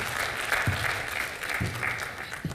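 Audience applause in a TV comedy show studio, a sustained, moderately loud patter of many hands clapping with faint voices beneath.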